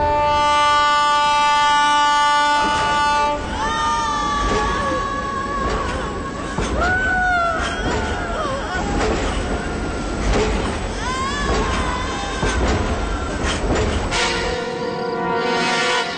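A moving train with steady rail car clatter and rumble, with horn-like tonal wails and squeals through the middle and voices faintly present at times.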